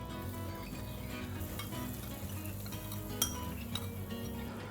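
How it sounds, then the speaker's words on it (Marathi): Spice tempering being stirred into a mixed vegetable pickle gives a steady, even sizzle with a few light metal clinks of a spoon against the vessel, close and continuous, with no voices. "आता जे आपण फोडणी करून घेतलेली आहे ती ढवळत राहायची आणि मग ह्याच्यामध्ये ती मिक्स करायची"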